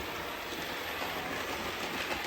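A steady, even rumble of a model train rolling along its track, continuous and fairly quiet with no voices.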